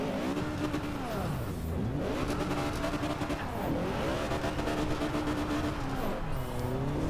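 A 50-year-old Mini spins its wheels in a sustained burnout in Forza Horizon 2, engine screaming at high revs with shifting pitch sweeps and tire noise, loud and continuous throughout.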